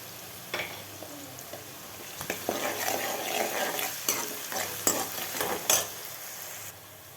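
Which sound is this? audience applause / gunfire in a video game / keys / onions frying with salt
onions frying with salt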